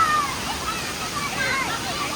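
Hogenakkal waterfall with people bathing, swollen after Karnataka rains: a steady rush of falling water fills the background, with brief splashes and faint voices mixed in.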